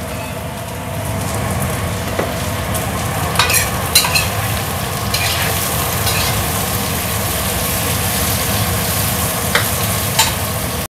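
Tofu and tempeh fry in plenty of hot oil, making a loud, continuous close-up sizzle and crackle throughout, with occasional stirring clinks and no talking.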